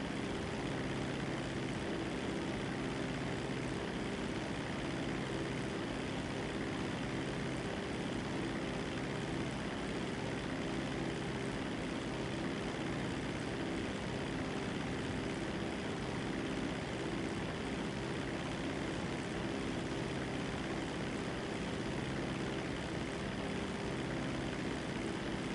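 Steady, droning propeller aircraft engine noise from a plane landing in GTA 5 Online, an unbroken, constant hum with no pauses and no speech.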